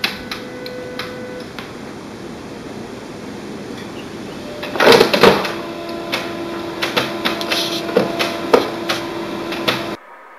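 An HP Color LaserJet Pro MFP M183FW printer starting up after its power button is pressed, with a quiet hum, then a burst of mechanical whirring and clicking from about the midpoint and a run of irregular ticks and clunks to the end.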